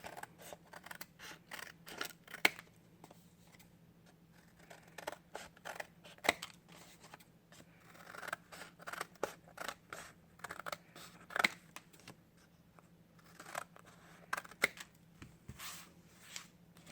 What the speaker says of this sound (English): using my paper cutting scissors, not your sewing scissors, I'm going to cut this off